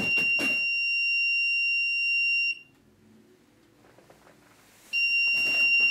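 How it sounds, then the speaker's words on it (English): A PIR motion sensor triggers a shrill electronic alarm tone that sounds steadily, cuts off into near silence for a couple of seconds, then starts again, loud and close, with brief clattering noises around it. "if I toss some random objects in front of the sensor, it also easily detects that motion and again triggers the alarm"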